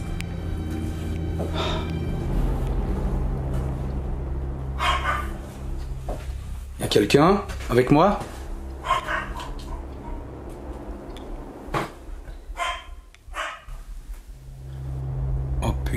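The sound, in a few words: dog barking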